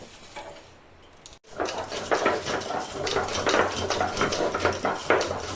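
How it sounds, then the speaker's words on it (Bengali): Dry-roasted whole spices are ground dry, heard as a brief quiet pause and then steady, close, rough scraping and crunching strokes that repeat in a continuous rhythm. "আমি এইভাবে শুকনো বেটে নিব।"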